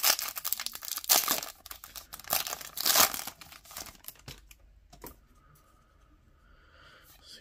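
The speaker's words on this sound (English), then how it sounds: "Let's continue this rip. Get into the next pack, guys." A 2019 Topps Opening Day baseball card pack being ripped open up close, with loud bursts of crinkling, tearing foil wrapper, then quieter rustling and shuffling of the cards.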